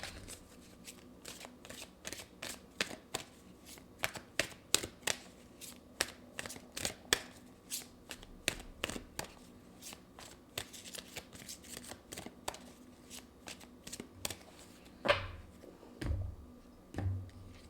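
Oracle cards being shuffled by hand for an angel message, a quiet and close series of crisp riffling snaps repeating at a steady rhythm, with one longer shuffle near the end and no voice.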